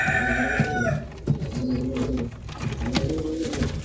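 Young Numbek pigeons cooing in a loft, with soft repeated coos and low throaty calls close by, other birds calling in the background.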